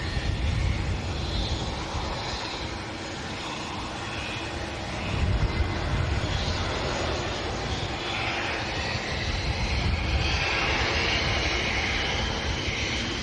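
A Citation 650 business jet at Manchester Airport, heard as a steady, fairly distant broadband engine roar that swells slightly midway and holds for the whole span, with no voices.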